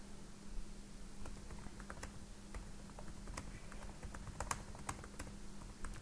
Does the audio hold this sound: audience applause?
no